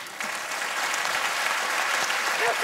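Sustained applause fills a hall at a film festival closing ceremony as Courgette is welcomed, dense even clapping from a large audience throughout.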